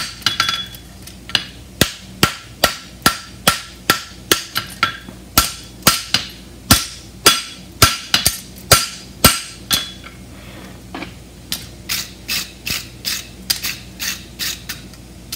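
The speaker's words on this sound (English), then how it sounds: "Using the edge of my hammer and just pushing back into that corner." Hammer blows ring out steadily while forging a European hind bar shoe at the anvil, dozens of sharp, evenly spaced metallic strikes, loud and close, with a brief pause near the end before the pounding resumes.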